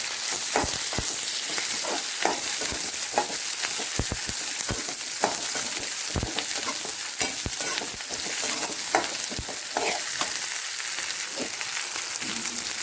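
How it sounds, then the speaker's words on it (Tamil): Onions and curry leaves frying in a pan for chicken varuval, a steady loud sizzle broken by frequent sharp clicks and scrapes of stirring, heard up close without talk. "வெங்காயம் இந்த அளவுக்கு வதங்கினோன்னையும் கருவேப்பிலை தழை போட்டுக்கலாம்"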